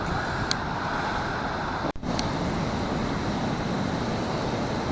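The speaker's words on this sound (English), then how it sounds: "The surf was too hectic." Ocean surf rolling onto a beach with wet sand, a steady broad roar of waves and wind that holds constant throughout, broken only by one brief dropout near the middle.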